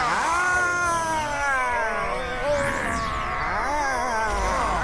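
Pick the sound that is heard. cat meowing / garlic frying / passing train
cat meowing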